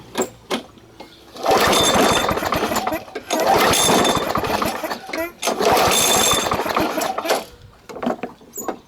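A lawn mower engine sputters and catches in three rough bursts, each dying out after a second or two, with brief sounds between.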